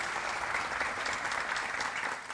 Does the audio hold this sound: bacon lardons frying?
no